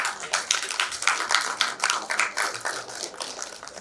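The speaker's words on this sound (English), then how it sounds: "A round of applause for him, please." Audience applause at a security policy conference panel, a thin, scattered patter of hand claps from a modest crowd, steady for a few seconds without fading, with no voices over it.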